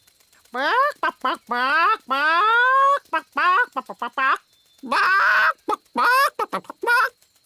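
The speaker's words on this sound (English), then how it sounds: "Nanny Plum, I told you not to magic a chicken" A cartoon chicken clucks in a run of loud, close, choppy bursts with short gaps, alone without talk.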